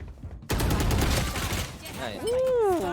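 Gunfire in the Roblox game Forsaken: a sudden burst of rapid shots starts after a brief quiet and continues loudly, with a voice over the end.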